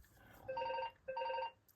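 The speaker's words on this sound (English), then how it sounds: "An urgent phone call." A telephone rings indoors in two distinct electronic trilling bursts, each roughly half a second long, clear and moderately close, separated by a short pause.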